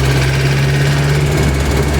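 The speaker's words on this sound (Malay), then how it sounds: "Tu bunyi knocking enjin" A van engine, its fuel tank replaced because of rust, idles steadily with a low, rough knocking running through its hum, close and constant, no voices.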